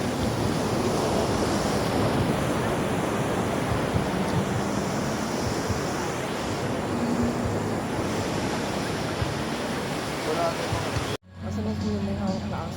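Ocean waves surge and wash onto the beach at Casiguran, Aurora, a loud, steady roar with wind buffeting the microphone. The noise cuts out briefly near the end and then resumes.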